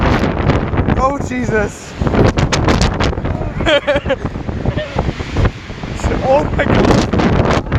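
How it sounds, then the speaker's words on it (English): Strong gusts of a roughly 70 mph windstorm batter the microphone in loud, rumbling bursts, while people exclaim and talk over the roar. "It's like 70 miles an hour wind."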